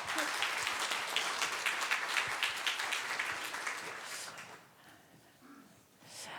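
An audience claps in a steady wash of applause that fades after a few seconds.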